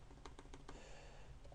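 Keys clatter on a computer keyboard in a short burst of several quick, crisp clicks over faint steady background hiss, then trail off into a few scattered taps.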